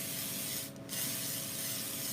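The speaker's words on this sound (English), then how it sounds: "And then I'm lightly spraying it." Spray paint hisses steadily from an aerosol can onto a grapevine wreath in one continuous, fairly quiet burst with a short dip midway, close to the microphone.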